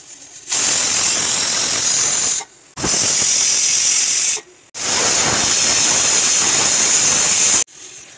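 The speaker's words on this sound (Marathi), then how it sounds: "आता मी कुकरला झाकण लावून घेतले. 3 शिट्टी पूर्ण करून घ्यायची आपल्याला." A pressure cooker cooking butter spicy chicken liver and gizzard vents steam in loud, close bursts of hissing whistle, three long blasts separated by brief pauses.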